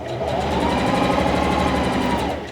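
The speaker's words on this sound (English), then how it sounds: "then we're going to sew the rest of that edge together" A Singer Classic 44S sewing machine sews a seam along a zipper edge with a steady, fast, even mechanical whir, close and continuous, with no talking.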